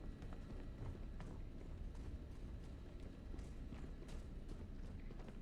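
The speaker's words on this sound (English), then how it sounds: "Oh, I hear footsteps." Robot footsteps stalking down a hall in Starfield: a steady run of faint, rapid clip-clop steps, quiet and distant under low background hum.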